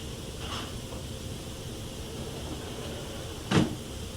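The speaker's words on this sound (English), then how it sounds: "And then the closet door closed." A single faint knock of a closet door closing inside an empty house, heard once near the end over a steady background hiss.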